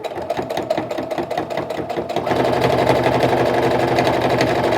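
A sewing machine stitching a tie-style face mask, first a slower rhythmic chatter of needle strokes, then a faster continuous hum as it speeds up, close and loud.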